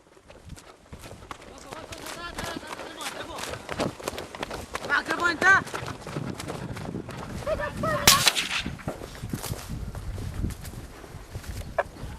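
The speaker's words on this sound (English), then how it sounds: "Why are you shooting?" Gunfire aimed at people at a tense scene, with sharp shots and bangs mixed with hurried running and footsteps, while people shout and talk throughout.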